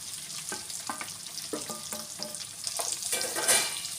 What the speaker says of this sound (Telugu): ఇలా ఉల్లిగడ్డలు మంచిగా వేగాక సన్నగా పొడుగ్గా కట్ చేసి పెట్టుకున్న దొండకాయ వేసుకోవాలి.